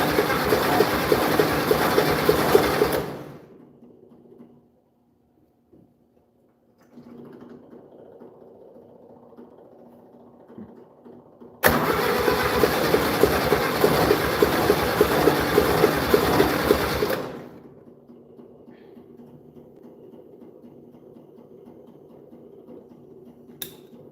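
An old lowboy truck engine cranks and runs in two loud sustained bursts with a gap of quiet idling between them, heard close and harsh, ending in a lower steady idle.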